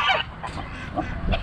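Farmyard goose honks in a short loud burst at the start, then a few fainter calls and another honk at the end, with other chickens and fowl nearby.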